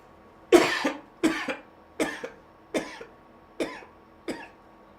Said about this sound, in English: Have you ever coughed yourself?